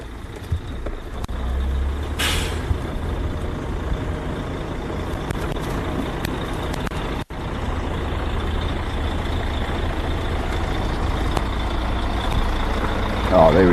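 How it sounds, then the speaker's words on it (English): Idling truck engine at a live elephant bull release, a steady low rumble running close and continuous throughout, with a brief dropout partway and faint voices in the background. "Apologies for the noise of the truck."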